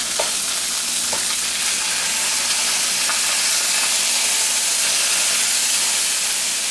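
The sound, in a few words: pork chops sizzling in a pan after being turned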